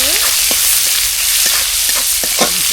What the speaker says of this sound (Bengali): পেঁয়াজটা প্রায় ভাজা ভাজা হয়ে গেছে